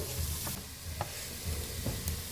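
Onions with a touch of garam masala sauté in a biryani pan, giving a steady, close sizzle with faint stirring scrapes throughout.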